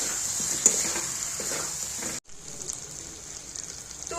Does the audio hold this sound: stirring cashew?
yes